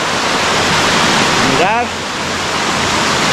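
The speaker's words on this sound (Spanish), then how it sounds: "qué espectáculo. ¡Wow! El río Guadiaro." The Guadiaro river rushes at a pond, making a loud, continuous roar of churning water that fills the whole clip while a voice briefly speaks over it.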